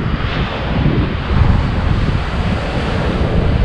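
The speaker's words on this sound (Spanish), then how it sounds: "Ahora sí, lo de las olas, espectacular también, ¿eh?" Ocean waves crash and surge on the shore at El Cotillo, Fuerteventura in the Canary Islands, a steady loud roar of surf mixed with gusty wind buffeting the microphone.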